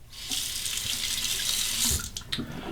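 Tap water runs steadily into a sink for a rinse during a wet shave, a close continuous splashing hiss with a slight change in the flow near the end.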